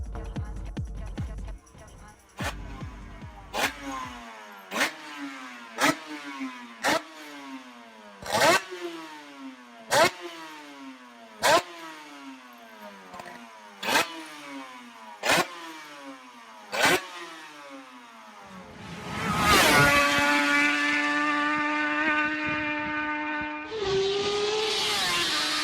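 A Suter MMX 500 two-stroke racing motorcycle engine with electronic fuel injection fires up, then blips through a series of about a dozen sharp, rhythmic revs before settling into a loud, sustained high-pitched wail and a final rising rev.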